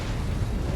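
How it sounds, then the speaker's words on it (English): A boss-fight explosion in a video game gives a short, dense, low rumbling boom that fills the whole moment, loud and heavy with no voices. "Look for the explosion here"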